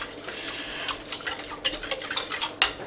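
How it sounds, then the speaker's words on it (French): A small whisk beats a cornflour mixture for a celeriac gratin in a home kitchen, clicking rapidly and rhythmically against the bowl in a steady run of close, bright taps with no talk over it. "Un petit fouet, on mélange."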